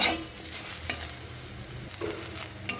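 Brinjal (eggplant) slices fry in a pan over medium-low heat with neem leaves nearby, giving a steady sizzle with a few sharp clicks of a spatula turning the pieces, close and alone without talk.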